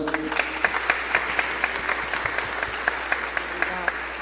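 A church audience applauds to welcome Pastor Enoque Vieira at an evening family talk, with steady scattered clapping carrying on throughout alongside some faint background voices.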